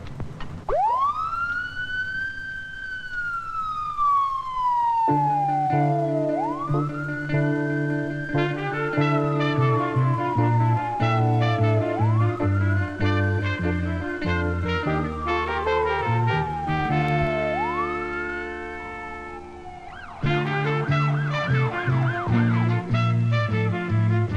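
A police car speeds past with its siren wailing in long rising and falling sweeps, loud and close, over a layered musical bed that shifts near the end.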